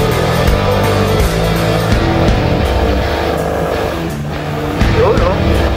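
Maxi 160 scooter engine droning steadily while climbing uphill on a rough, bumpy road with a heavy rider, with wind and road rumble, the engine note shifting slightly as it overtakes.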